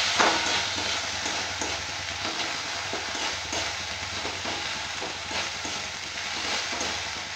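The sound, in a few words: stir-frying papaya curry in a pan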